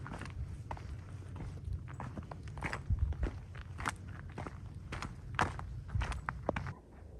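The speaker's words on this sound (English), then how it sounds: "even the sounds of just my footsteps" Footsteps crunching along an outdoor path at a steady walking pace, close by and fairly quiet, with no voices.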